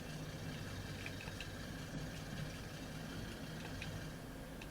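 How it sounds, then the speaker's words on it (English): Vehicle engines idle in the Farming Simulator 22 game, a faint, constant low hum with a light rattling vibration that carries on evenly with no talking. "It's weird how you can hear the engines over everything."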